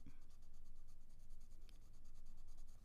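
Steady scratchy shading of Prismacolor colored pencil on paper, an intermediate green worked over dark leaves, a continuous close, soft rasping stroke that runs nearly unbroken with slight swells.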